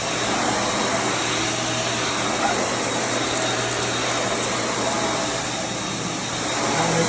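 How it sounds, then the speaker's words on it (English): A vacuum cleaner runs steadily while spot vacuuming an office floor, a continuous loud airy whine and hiss with slight swells as it is pushed around. "This would be spot vacuuming every night."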